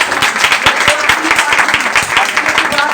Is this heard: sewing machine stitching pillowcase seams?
no